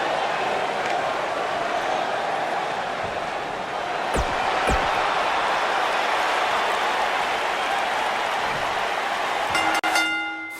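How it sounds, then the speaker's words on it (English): Wrestling arena crowd in WWE 2K19 before a ladder match at Hell in a Cell, a steady loud roar and buzz of cheering fans throughout, with a few sharp thumps and a brief tonal sting near the end. "The crowd is buzzing with excitement."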